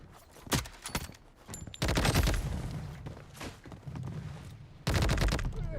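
Bursts of automatic gunfire in the shooter game Blood Strike, loud sharp volleys separated by short gaps, with heavier sustained firing near the end and no talk.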